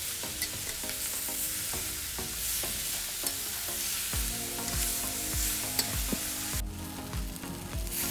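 Onions roast in a pan for Malvani masala, frying with a soft, steady sizzle while a utensil scrapes and stirs in a regular rhythm of strokes, close by and fairly quiet, with no speech.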